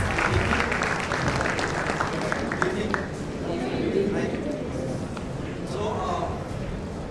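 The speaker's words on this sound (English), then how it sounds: "Ladies and gentlemen, a big round of applause as he graces the stage with us." A conference audience at the afaqs! Digies Conference applauds a speaker taking the stage, giving steady, dense clapping from a large room that holds evenly for several seconds, with some murmuring mixed in.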